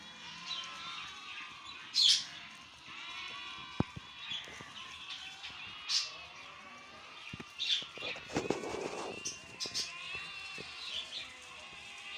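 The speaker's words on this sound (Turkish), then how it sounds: "Kuş arkada ötüyor" A bird sings in the background near lambs and sheep, its short bright chirps scattered over about twelve seconds above a bed of faint bleating and rustle.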